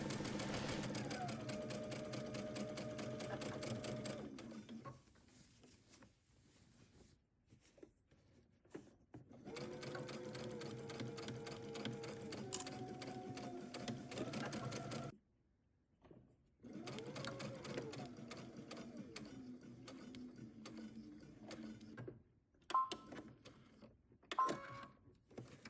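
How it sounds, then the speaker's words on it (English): A sewing machine runs two rows of basting stitches along a summer dress, its steady mechanical whir going in long bursts with short pauses between them, close and clear. "2 rows of basting stitches from one end all the way around to the other end"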